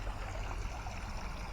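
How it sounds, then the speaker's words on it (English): Water circulating through a small garden fountain set up beside bird feeders, a steady close trickle and splash that runs without a break and carries no voices. "Turn the fountain on for the water to circulate so it doesn't get stagnated."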